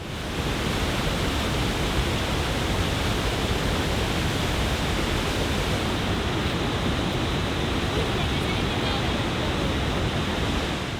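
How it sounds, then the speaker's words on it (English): Niagara Falls at night, a massive waterfall roaring as a dense, steady, broadband rush that fills the whole span without change, loud and close, with no distinct voices above it. "The water that pours over the edge of the falls comes from Lake Michigan and Lake Superior"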